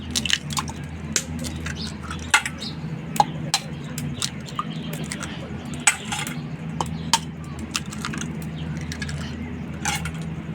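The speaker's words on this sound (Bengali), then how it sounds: "এখানে আমি ডিম 3টা ফেটে নেব।" Three eggs being beaten in a bowl for a Bengali egg and eggplant dish: quick, irregular clinks and taps of a utensil against the bowl over a steady low kitchen hum.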